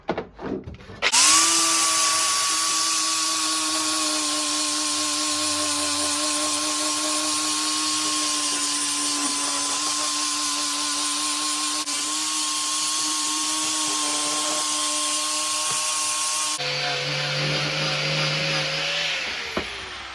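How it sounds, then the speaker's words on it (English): An angle grinder whines at a steady high pitch while working on a part from a Suzuki Bandit 1200 motorcycle under restoration; it spins up, holds a near constant loud tone for about fifteen seconds, then winds down. "Just trying the grinder now."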